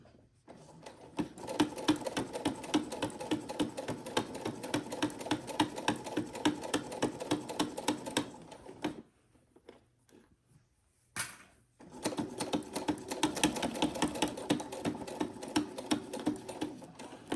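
A sewing machine stitches across a fabric zipper pouch in rapid, even bursts of needle clatter. It stops briefly with a short noise in the pause, then starts stitching again, close and fairly loud.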